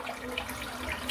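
Steady tap water runs into a sink as it is rinsed out, a continuous close splashing flow with no pauses.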